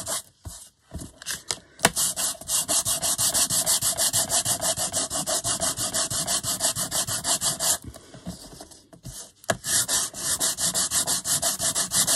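Rapid back-and-forth rasping of sandpaper scrubbing a Rolodex card, loud and close, with a few brief pauses between bursts.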